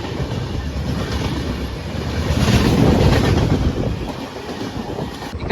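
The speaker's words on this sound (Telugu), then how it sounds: "చూడండి ట్రైన్ ఎంత స్పీడ్గా అయితే వెళ్తూ ఉందో" Janmabhoomi Superfast Express with LHB coaches rushing past at speed, a dense broadband roar with rail rumble that swells toward the middle and stays loud throughout.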